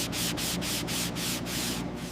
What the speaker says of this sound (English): Hours of precision sanding are crucial to bring back the original curves and sharp design of this classic.